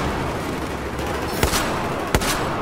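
Gunfire in Battlefield 4 multiplayer: a continuous rattle of automatic weapon fire punctuated by two sharp, louder shots, dense and close throughout.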